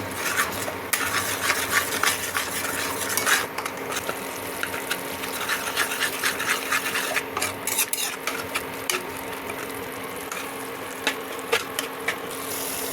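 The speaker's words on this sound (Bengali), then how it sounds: "মশলাটাকে এবারে কষতে থাকবো।" Spice paste with turmeric, salt and a few grains of sugar is stirred and fried in a pan for an aubergine mash, a steady close scraping and clinking of the spoon against the metal under a low sizzle, with no talk.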